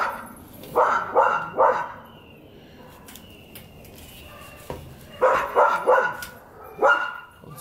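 Several neighborhood dogs bark in short clustered bursts outdoors at a moderate distance, two volleys of rapid barks separated by a quieter lull with faint yips.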